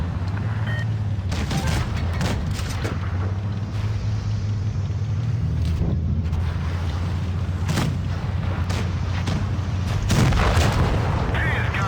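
Tank cannons in WoT Blitz fire heavy booming shots, several scattered bursts over a constant low engine rumble, with a player talking at times.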